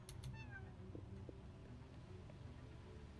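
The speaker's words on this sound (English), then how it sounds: "It meows loudly and wrestles with Dimitri's hand" A cat meows loudly in a video game, a few clear high meows near the start over a steady low musical background.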